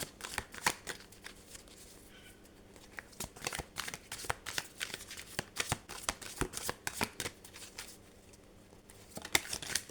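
Tarot cards shuffled by hand at close range, a steady run of quiet, crisp riffles and flicks alone in a quiet room, with no talking.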